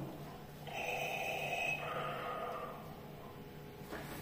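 Breathing effect from a Darth Vader helmet, slow mechanical inhale and exhale with a hissing, snorting texture, one full breath cycle heard faintly and alone.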